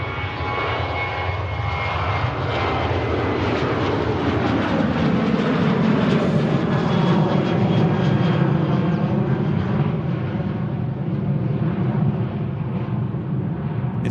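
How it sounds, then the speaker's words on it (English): A Ryanair Boeing 737 departs from a Manchester Airport runway with a sustained, loud jet engine roar. A broad rumble runs throughout as the thrust tone slowly shifts while the aircraft moves past. "the first departure on this runway is a Ryanair. 737 heading up."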